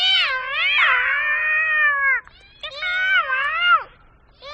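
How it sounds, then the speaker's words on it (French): Several cats caterwaul at night in a vacant lot, loud drawn-out wavering yowls in two long bursts with a brief gap between, close and alone with no talk. "longtemps, très longtemps, j'entends miauler à la mort quelques chats"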